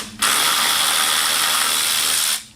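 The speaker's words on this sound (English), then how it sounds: "So take a few more bolts out while this is draining" A ratchet spins steadily for over two seconds, a continuous close, loud clicking whir as bolts are backed out on a Corvette while coolant drains, with no talk.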